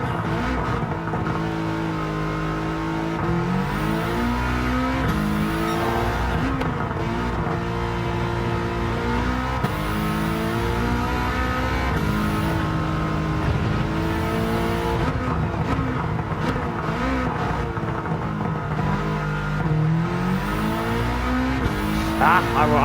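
Subaru race car engine in Gran Turismo 7, revving steadily through gear changes at high pitch with brief tire squeal, sustained and close throughout.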